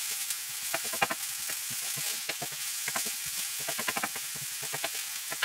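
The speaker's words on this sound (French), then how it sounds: "Et on fait revenir donc l'oignon dans l'huile d'olive" Onion sautéing in olive oil, a soft steady hiss broken by frequent small crackles and pops scattered irregularly, close by with no talking.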